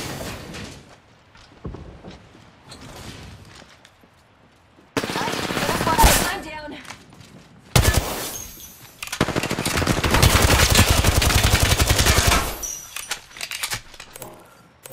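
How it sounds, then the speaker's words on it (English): Gunfire in the video game Apex Legends comes in loud bursts of rapid automatic shots, separated by quieter stretches with small clicks and thuds. "I am taking fire."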